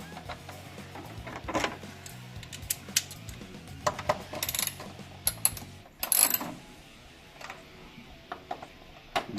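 Bolts being tightened on the air filter box of a Honda del Sol, heard as a run of small close metallic ratchet clicks and taps in scattered bursts, some louder than others.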